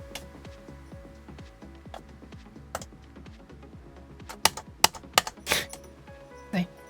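Computer keyboard keys click loudly and crisply while someone types on an electronics project, in a fast uneven stream of clacks with a few sharper hits. Faint talking sits beneath it.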